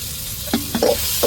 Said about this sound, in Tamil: அப்படியே வதக்கி விட்டுருவோம் நல்லா இஞ்சி பூண்டு பச்சை வடை போகட்டும்